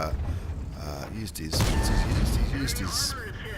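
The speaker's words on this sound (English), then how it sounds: "Artillery looks like he might have hit him" A World of Tanks battle with an artillery shell striking a T-54 E1 tank: a sharp boom and crunching impact lands midway, followed by rumbling battle noise and a brief metallic tone, with a voice speaking over it.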